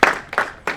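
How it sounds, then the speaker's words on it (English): Scattered claps from a small audience at a financial literacy workshop, three separate sharp hand claps close by, each fading quickly, with no speech. "Round of applause for yourself for making it out today."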